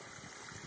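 Small backyard pond with a little waterfall and fountain, a steady close wash of splashing and trickling water with no pauses, fairly quiet overall.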